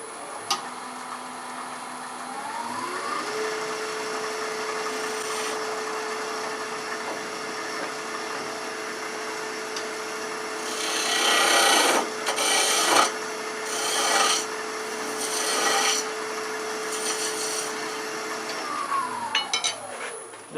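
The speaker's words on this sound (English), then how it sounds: "So we're just going to make a little chamfer cut, and I'm going to do that with a spindle gouge." A spindle gouge cuts a chamfer on wood spinning on a lathe while turning a wheelie bug pull toy: a steady motor hum runs throughout, with rough, scraping bursts of the cut midway, close and fairly loud.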